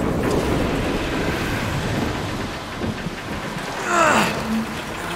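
A rainstorm in the video game Transformers: Fall of Cybertron hisses as steady, dense rainfall with low rumbling underneath, and a brief voice-like cry rises near the end.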